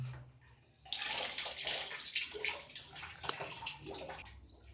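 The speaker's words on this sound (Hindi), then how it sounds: "यहां से पानी जो इसमें है वो गिरा लेता हूं।" Water pours out of an electric geyser being drained for repair after its inlet is shut, a steady close splashing gush that starts abruptly and keeps running with gurgling surges.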